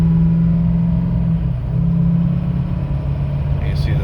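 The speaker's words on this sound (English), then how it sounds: "And you see the turbo is spooling up." A 2006 Ford F250 Lariat pulls hard under part throttle, its deep, steady engine rumble close and loud while the turbo spools up faintly above it.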